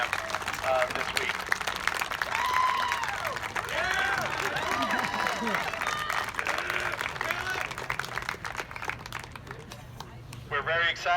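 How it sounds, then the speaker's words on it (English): Audience at a high school marching band's post band camp performance applauds band families, a dense steady wash of clapping with crowd voices and chatter mixed throughout. "let's give your families a round of applause"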